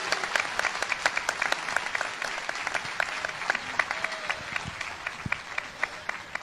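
Applause from a church congregation at a worship service, sustained dense clapping of many hands with sharp accents throughout, steady and fairly near.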